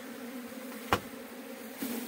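Asian honey bees (Apis cerana indica) at a beekeeping site in Mandi, Himachal Pradesh, make a steady low buzz, with a sharp click and a brief rustle over the drone.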